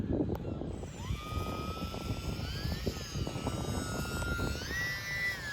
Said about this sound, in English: another dramatic takeoff